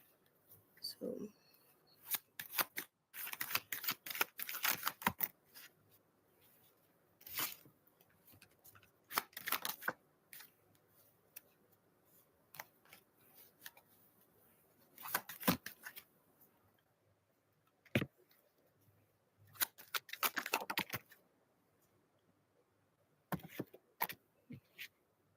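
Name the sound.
tarot cards being shuffled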